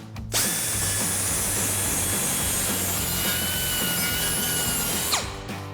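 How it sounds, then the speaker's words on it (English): Whiz wheel deburring the freshly cut ends of stainless exhaust tubes for a gas Silverado 2500, a steady high-pitched grinding whine held for about five seconds, close and loud, then spinning down. "we've got our whiz wheel, and we're gonna deburr both of these"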